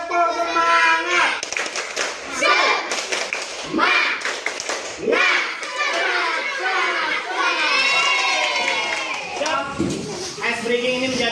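A class of children claps the rhythmic "tepuk semangat" pattern, quick patterned taps under steady chanting voices throughout.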